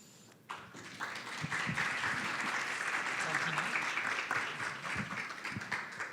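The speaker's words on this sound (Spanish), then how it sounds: "nuevamente un aplauso" Audience applause at a medical conference on haemophilia A in children, a sustained burst of clapping from a hall crowd that starts abruptly and holds steady for several seconds, with a few louder individual claps standing out.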